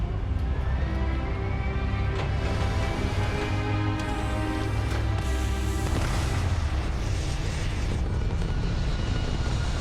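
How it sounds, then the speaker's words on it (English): Spaceship thrusters fire in the video game Starfield, a loud sustained roar with a heavy low rumble and rising whooshing swells, dense and unbroken from start to end with no talk. "All thrusters firing."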